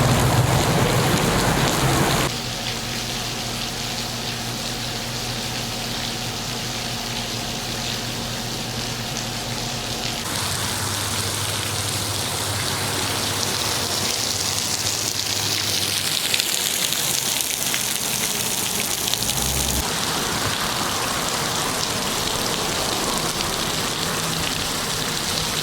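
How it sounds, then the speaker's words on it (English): A waterfall pours over a cliff edge in Madison, giving off a steady, loud, rain-like rush that holds for the whole stretch, with the tone shifting a few times as the listening position changes. "They have some other waterfalls similar to this."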